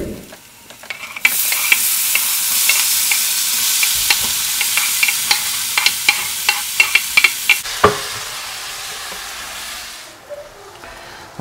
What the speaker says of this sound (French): maintenant que nos oignons ont légèrement commencé à caraméliser, on peut y incorporer nos tomates